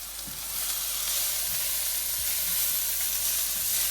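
Spices frying in a pan for an okra dish, a steady bright sizzle and hiss that swells slightly and holds, close and continuous with no voices.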